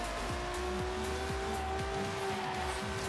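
Cars racing through a night street race in the video game Forza Horizon 3: a loud, continuous engine roar with steady revving and repeated gear-shift dips, tires hissing underneath, no talking.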